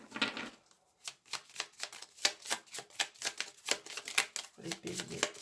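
Tarot cards being handled and shuffled, a quick string of soft riffling clicks and taps, close and quiet.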